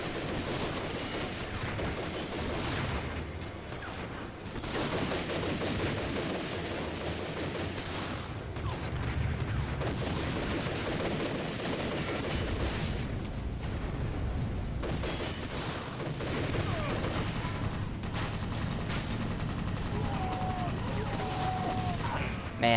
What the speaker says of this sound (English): Oh, this is a sniper rifle.